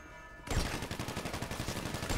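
Gunfire in GTA V Online, meant as sniper rifle shots, erupts abruptly as a rapid, steady stream of loud, close cracks continuing to the end, with no talk over it.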